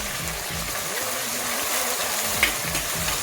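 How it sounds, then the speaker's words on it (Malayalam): Ginger, green chilli and garlic stirred into hot oil with browning shallots for a coconut-milk chicken curry, giving a steady, close, full sizzle with a faint tonal hum running underneath. "കൊച്ചുള്ളി മൂത്ത് വരുമ്പോൾ ഇഞ്ചി, പച്ചമുളക്, വെളുത്തുള്ളി ഇട്ട് ഇളക്കണം."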